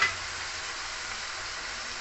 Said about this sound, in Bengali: এখন আমি এখানে কাঁঠাল মরিচটা দিয়ে দিচ্ছি